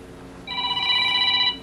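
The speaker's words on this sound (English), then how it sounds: "Be back. Gotta get the phone." A telephone rings once, a bright steady electronic trill of about one second that stands clear over a low background hum in a workshop.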